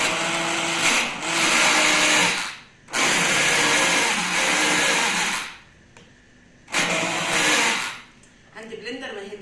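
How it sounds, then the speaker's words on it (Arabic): A blender purees cooked, stewed fava beans in their cooking water, roaring loudly in three long bursts separated by brief pauses, with someone speaking faintly at the end. "انا بضرب الفول اهو، الفول المشوي خليه بالميه بتاعته."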